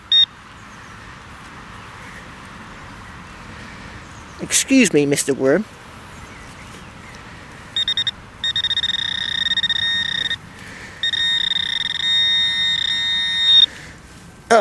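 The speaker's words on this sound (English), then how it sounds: "I just beeped it with the metal detector." A metal detector over buried lead gives steady electronic tones in two long stretches, with a short gap between them. Earlier there is a brief spoken remark against quiet outdoor background.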